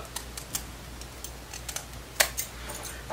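Scissors snipping through a Brazilian human hair wig: a series of small crisp clicks and short cuts, irregularly spaced and close, with one sharper snip standing out, no talking.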